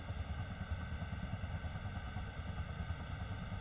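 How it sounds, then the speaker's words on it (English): A Ka-50 helicopter turbine engine in the DCS World flight simulator winds up toward idle speed, a steady droning whine and rumble holding level and continuous at low volume, with no voices. "Engine reaches idle speed, 72-ish percent RPM."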